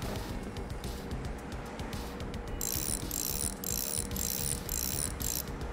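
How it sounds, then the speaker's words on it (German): Ratchet wrench clicking as it turns a long bolt while changing shock absorbers in Bus Mechanic Simulator, a steady series of close, crisp ratcheting clicks in bursts over a low mechanical background hum. "Da zieht sich ja die mit der Ratsche am schnellsten."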